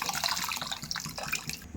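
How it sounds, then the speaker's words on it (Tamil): Water poured into a pan of dissolved masala for Tamil fish curry (meen kulambu), a steady splashing pour running close and fairly loud for nearly two seconds, with no talking. "இப்போ இந்த தண்ணியை ஊற்றிக்கலாங்க."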